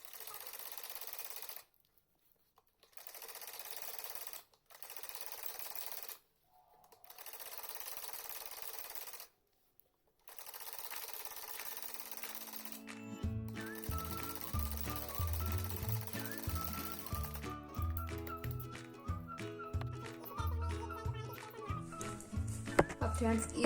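A sewing machine stitching the hem of a salwar runs in several short bursts separated by brief pauses, then settles into quieter steady running. The machine is close and clear, and music plays underneath in the second half.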